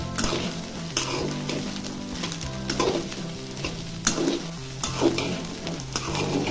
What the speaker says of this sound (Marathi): आता मक्का भाजलेला आहे